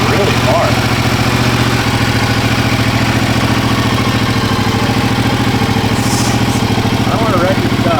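A vehicle engine runs steadily in first gear with the clutch let out, a loud continuous mid-pitched rumble that holds throughout, with voices talking over it.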